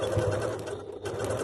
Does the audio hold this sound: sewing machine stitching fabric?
yes